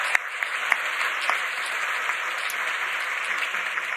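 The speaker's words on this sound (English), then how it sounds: "Can we give a round of applause?" Audience applause at a college dialogue event, steady dense clapping from a large crowd filling the room, fairly loud and continuous with a few sharper claps standing out.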